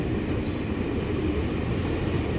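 KRL commuter line electric train at Manggarai station in Jakarta gives a steady, loud low rumble and roar of wheels and motors throughout, with no voices.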